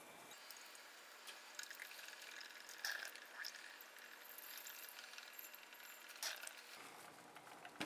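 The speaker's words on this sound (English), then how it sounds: "adjust the total volume up to about 100 milliliters using distilled water" Distilled water poured into a stirred solution on a hot plate, a steady watery trickle with faint drips and clinks running throughout, fairly close and even in level.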